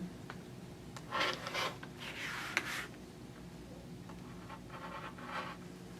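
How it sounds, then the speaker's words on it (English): A rotary or blade cutter slices a bias binding strip of fabric on a cutting mat, heard as soft, close scraping strokes in a few short bursts against a quiet background. "Let me just finish cutting that strip."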